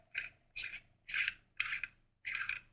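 Five short, evenly spaced metallic rasping twists ring out as the threaded pommel of a neopixel lightsaber hilt is unscrewed, close and fairly quiet with brief silences between turns.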